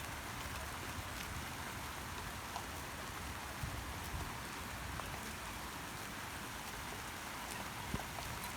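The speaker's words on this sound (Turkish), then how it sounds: "çok büyük yağmur yağıyor." Heavy rain pours steadily on a farm, a dense, even hiss with faint scattered drops and no talking.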